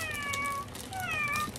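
A child imitates a cat with two drawn-out, cute high meows, separated by a brief pause, close to the microphone against a soft indoor background.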